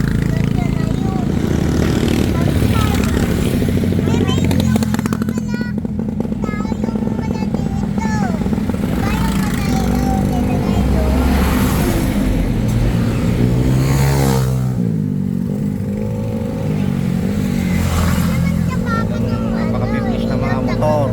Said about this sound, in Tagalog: Napaka-biblis na mga motor.